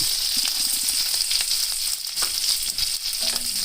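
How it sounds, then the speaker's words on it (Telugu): Green chilies and curry leaves frying in hot oil, a loud continuous sizzle with occasional soft pops and stirring sounds, no talking. "పచ్చిమిర్చి వేగేటప్పుడు కొంచెం కరివేపాకు కూడా వేద్దాము"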